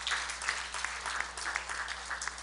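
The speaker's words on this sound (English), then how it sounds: "So big round of applause." Audience applause at a tech meetup of several hundred people, a steady patter of many hands clapping at moderate, somewhat distant level over a low hum for the whole stretch.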